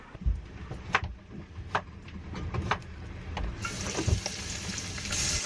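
Food frying in a pan in the small galley of a sailboat during a solo overnight passage, a soft sizzling hiss that builds and brightens toward the end, with occasional knocks and clatter of cooking.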